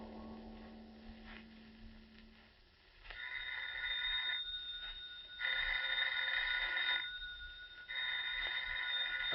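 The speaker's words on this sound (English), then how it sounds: "Miss Goddard, answer the phone, please." A telephone rings in a radio drama, a bright electric bell sounding in three long bursts with short pauses between, clear but slightly muffled, after a brief steady tone and faint background noise.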